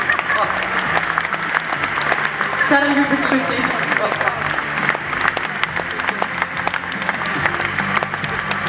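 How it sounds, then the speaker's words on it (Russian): Audience applause at a concert, steady dense clapping from a large crowd filling the whole stretch, with someone speaking over it. "Аплодисменты."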